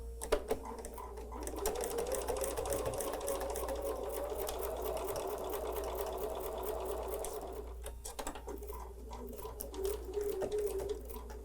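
A sewing machine stitching quilt fabric units for a Christmas quilt, a steady close whirring run that pauses briefly near the end and then resumes, heard alone without talk over a low hum.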